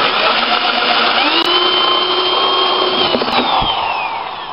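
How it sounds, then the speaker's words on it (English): A power drill drilling a pilot hole whirs loudly and continuously, its motor pitch rising as it bites in, then slowing briefly before winding down. "You're going to drill down in there to get that pilot hole in place."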